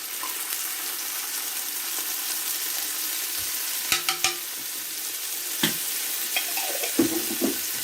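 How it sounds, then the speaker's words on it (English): Garlic and seasonings are stirred in a pot for chicken pasta soup, giving a steady broadband sizzle of frying with a few soft scrapes and clinks from the utensil, close and continuous with no talking. "We're going to stir the garlic and seasonings."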